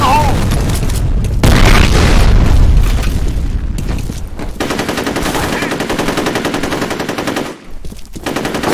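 Grenade blast and rapid automatic gunfire in the first-person shooter FEAR, loud and continuous combat noise with heavy booms and sustained bursts of firing throughout.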